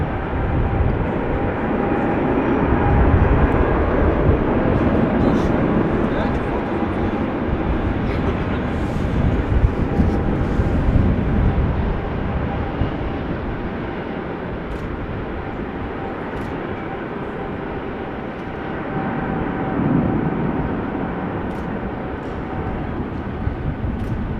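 A jet airliner at Amsterdam Schiphol Airport sends out a steady, broad engine roar that swells and eases over nearly half a minute, heard from some distance without any voices on top.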